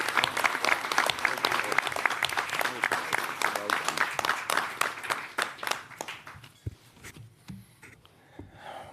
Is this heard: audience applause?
yes